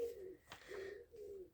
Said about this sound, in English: the wood pigeons are kind of cooing